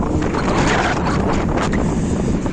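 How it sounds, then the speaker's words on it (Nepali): Strong wind buffets a phone microphone outdoors in Denmark, producing a continuous loud, rumbling roar with no break across the clip. "हावा त मोबाइल लैदिला जस्तो छ पुरा हावा दामी छ यार"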